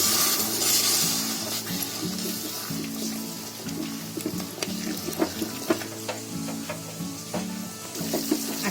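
Yogurt being stirred into a green paneer curry in a pan, with soft sizzling and wet scraping and clinking from the spoon, steady and close, no voices.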